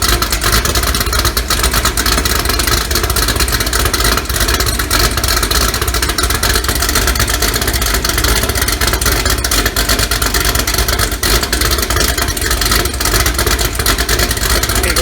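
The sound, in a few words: Camaro LME 416 stroker engine with big cam, choppy idle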